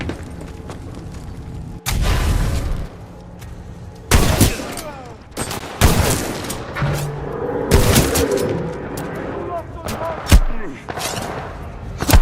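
Gunfire and grenade blasts in a Titanfall 2 campaign battle: sharp loud shots and heavy booming explosions strike at irregular intervals over twelve seconds, mixed with game voices and radio chatter between the bursts.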